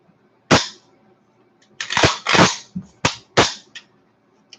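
An AMD63 rifle is put through a function check, a handful of sharp metallic clacks and snaps from the action and trigger, close and loud, spaced irregularly with silence between.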